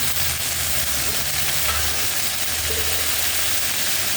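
Chopped water spinach fries with turmeric in a pan, giving a close, steady, hissing sizzle with soft stirring underneath and no talk.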